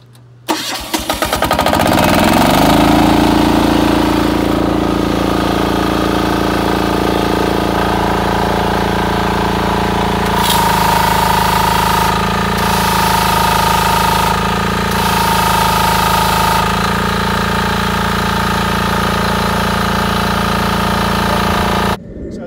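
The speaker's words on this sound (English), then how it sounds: "then turn the starter control to on, like so. And then it's just a case of fire it up with the ignition key." A pressure washer engine on a trailer-mounted 1125 litre pressure washer and rainmaker combo cranks and fires up, then settles into a steady, loud, close idle that runs throughout.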